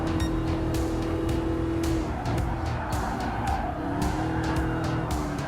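A Dodge Charger SRT Hellcat racing in the Gran Turismo Sport video game, a continuous loud engine roar with tire squeal and repeated sharp bursts as the car speeds around the track.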